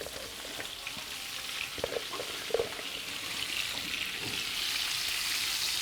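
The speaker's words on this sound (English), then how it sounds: "So I'm frying this onions to just put it on top of the bitoyo, the dried fish." Onions frying in a pan for a Congolese cookout in Cape Town, cooked as a topping for dried fish, give a steady close sizzle and crackle, with a few soft clinks of utensils and no talk.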